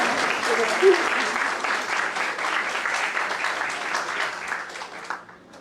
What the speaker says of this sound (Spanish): Un fuerte voto de aplauso para nuestros comentaristas